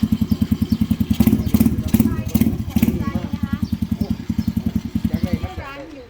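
A mini bike's small motorcycle engine runs close by at a steady, rapid putter, with a sharp pulsing thump throughout. Excited voices talk over it.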